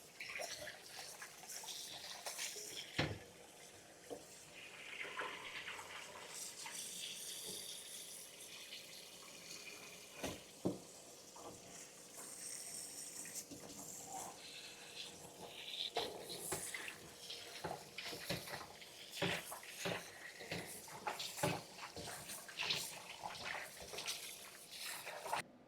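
Tripe being washed under a running kitchen tap, with steady water flow into a sink broken by frequent splashes, wet handling and clatters at close range.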